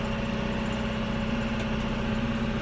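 A tractor engine runs at a steady drone while disking tracks left by a tractor and stone-picking wagon in a field readied for planting sorghum, continuous and fairly close, with no talk.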